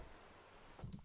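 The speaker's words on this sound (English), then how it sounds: "and then we just hear rain" Soft rain hiss patters at the close of a beat made in Ableton Live, a steady faint wash with a brief louder burst of drops near the end.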